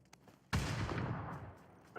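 A grenade detonates in a PUBG-style first-person shooter game, one sudden loud blast after a quiet moment, followed by a rumbling decay with faint sounds before it.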